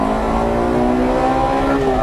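A 2001 Honda Integra Type R with a red-badge engine, a car driven hard on circuits, revs in a loud, sustained, steady engine drone with clear harmonic tones and no talking.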